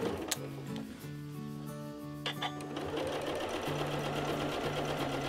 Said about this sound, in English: It can get a bit tricky to sew it. Just go a little bit slower keeping that quarter inch seam